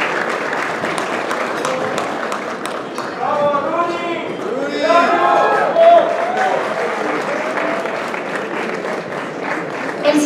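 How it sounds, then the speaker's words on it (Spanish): Applause fills a gala dinner hall during an award presentation, sustained clapping from many guests with voices and cheers rising in the middle, and talk mixed in. "a quien pedimos un fuertísimo aplauso"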